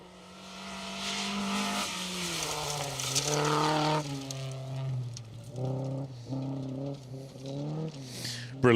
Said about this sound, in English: This is nice to see the Volvo 244.